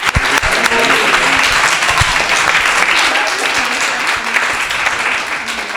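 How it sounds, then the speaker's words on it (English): Loud, close applause from an audience at a Sunday school seminar on deity worship honours a children's presentation, dense clapping continuing throughout with a voice faintly underneath. "Let's have one more hand of applause to this beautiful presentation and the kids."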